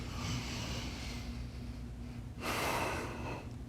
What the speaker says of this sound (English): Inhale, lift.